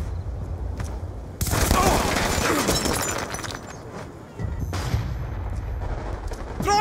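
Black Ops 2 gunfire on the Plaza map crackles in dense bursts, a heavy volley after a quiet stretch, then a pause and another rattling round, with shouted voices mixed in.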